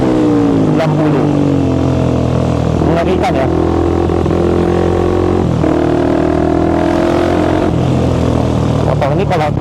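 Kawasaki Ninja RR Mono motorcycle engine revving hard at high RPM on the road, loud and close, its pitch climbing and falling through gear changes, with someone talking over it.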